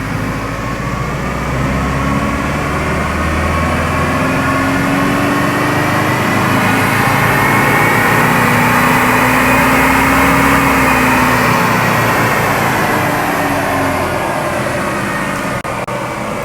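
A car engine with a variable nozzle turbocharger holds steady under load on a rolling-road dyno during a power run, a loud continuous drone with a slowly rising and falling tone, no voices.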